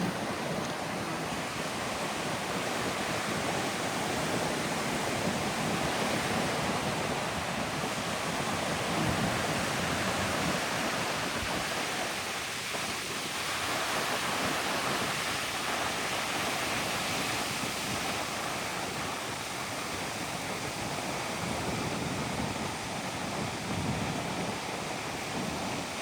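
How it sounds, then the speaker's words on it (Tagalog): Continuous broad roar of strong ocean surf with waves surging and receding, mixed with wind buffeting, steady throughout, at a beach in Lubayat, Real, Quezon, Philippines. "Ayan, malakas ang alon."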